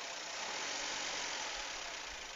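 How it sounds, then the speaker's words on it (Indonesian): A 2009 Toyota Avanza G's engine runs with a light touch of throttle, a steady, faint, close-up mechanical hum and whir with no voices. "kalau ngecek mobil itu digas sedikit aja, jangan banyak-banyak, dikit"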